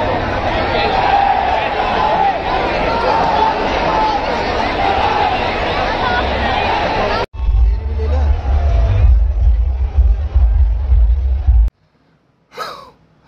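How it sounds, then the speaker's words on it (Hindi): Huge, dense crowd at a Gadar 2 movie promotion event with Sunny Deol and Amisha Patel on stage, a loud sustained roar of cheering and babble that cuts briefly, resumes just as loud, then drops off near the end. "भयंकर भीड़ है"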